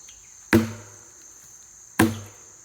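Two sharp axe strikes bite into a tree log being cut into pieces, each a loud woody chop with a short ringing decay, about one and a half seconds apart, with no talk.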